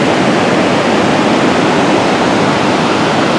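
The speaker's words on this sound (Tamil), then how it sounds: "தண்ணி அப்படியே பயங்கரமாக கொட்டிக்கிட்டு இருக்கு" Floodwater gushes at the Bhavanisagar dam, a loud, steady, roaring rush of water that fills the air without pause.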